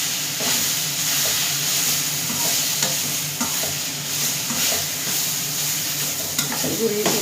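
Coriander leaves frying in a pan while being stirred, a loud close sizzle with scraping and small clicks of the utensil against the pan in an uneven rhythm.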